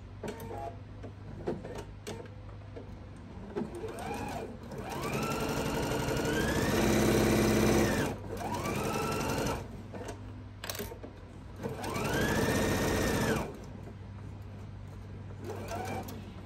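A sewing machine stitching a quarter-inch seam runs in several loud bursts of rapid mechanical whirring, separated by pauses, close by.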